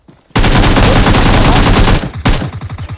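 Gunfire in a PUBG-style battle royale match on the Miramar map: a loud, sustained burst of rapid automatic fire close by, then a short gap and a second burst of separate shots fading out.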